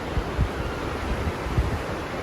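A fast-flowing mountain river stream below Everest Base Camp, on the trail between Tengboche and Dingboche, rushes in a continuous broad wash, with a few low wind thumps on the microphone.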